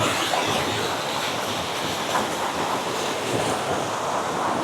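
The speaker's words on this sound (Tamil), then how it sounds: "ரொம்ப பெரிய ஃபால்ஸ் கிடையாது, ஓரளவு சின்ன ஃபால்ஸ் தான்" A small waterfall on a hidden trek through farmland, its water rushing as a steady, broadband wash that stays constant and fairly close throughout, with no voices.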